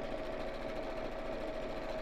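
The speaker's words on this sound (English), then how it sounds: "I know, do you know, Angela, I'd love a faster sewing machine" A sewing machine runs steadily while stitching a messenger bag, giving a close, even mechanical whir with a fast regular rhythm and no talk.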